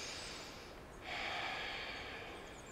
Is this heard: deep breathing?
yes